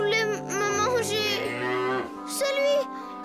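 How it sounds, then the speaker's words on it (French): A cartoon cow moos several times in a row, long drawn-out lowing calls at close range, heard alone without talk over them. "C'est simplement une vache, Tchoupi."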